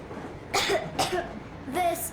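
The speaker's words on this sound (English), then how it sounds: "I have this cough." A young girl, Nastya, coughing in Metro Exodus, three short raspy coughs spaced roughly half a second apart, close and clear over a faint background hum.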